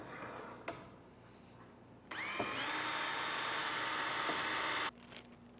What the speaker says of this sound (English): I'm going to put 2 screws in each.